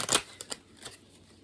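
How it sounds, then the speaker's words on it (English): A quick riffle of oracle cards being shuffled, a few soft papery flicks close by, fairly quiet with no talking. "And I also do the shuffling."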